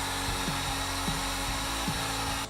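A heat gun on low setting blows hot air in a steady, even whoosh that is close and loud throughout, ending abruptly as it shuts off, used to soften glue residue in a garage.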